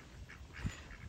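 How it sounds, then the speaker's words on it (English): Soft duck quacks, a few scattered calls over a quiet outdoor background, fairly faint. "Hi, little ducks."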